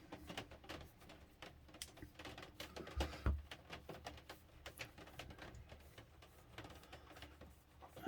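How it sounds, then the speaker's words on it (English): Steady patter of rain drumming on a thin shed roof, a dense irregular tapping with occasional louder thumps, fairly quiet and continuous. "it's raining outside and it's bouncing off the shed roof"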